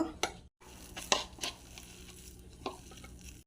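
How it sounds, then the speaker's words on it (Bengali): Spices, salt and besan batter with ginger-garlic paste being mixed by hand for egg pakoras, giving soft, close squelching and stirring sounds with a few sharper clicks, steady throughout with one brief pause. "মশলাগুলোকে আমি হাতের সাহায্যে মাখিয়ে নেব বেসম দেব বেসমটা দিয়ে মাখিয়ে নেব"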